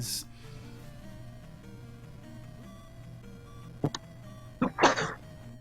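A single person sneezes sharply near the end, a short burst over a steady electronic game soundtrack from a Zelda II randomizer tournament stream.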